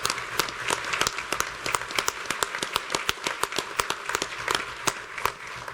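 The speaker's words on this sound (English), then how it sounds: "all of them, a round of applause." An audience at a water taste test event gives staff a round of applause, a full crowd clapping with sharp individual claps standing out over a dense, sustained patter.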